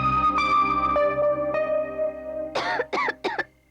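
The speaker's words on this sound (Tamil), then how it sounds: "பாத்தியா இருமுது." Several short coughs burst out near the end, following a sustained tonal background like film music, loud and close in a comedy scene.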